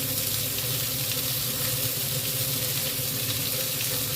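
Bhola fish fries in a pan, a steady, dense, close sizzle that holds evenly throughout with a faint low hum beneath and no talking.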